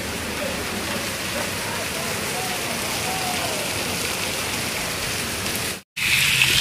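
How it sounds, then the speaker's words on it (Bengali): Steady, dense rain falls outdoors, a broad constant wash that is loud and close. It cuts out briefly near the end and then comes back. "তবে বৃষ্টিটা শুধু দেখো আমাদের এখানে সব জায়গায় এরকম বৃষ্টি হচ্ছে।"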